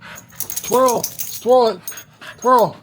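A dog whimpers and pants near the mic in three separate whiny cries with soft breathing between them, while an owner excitedly unpacks a dog subscription box.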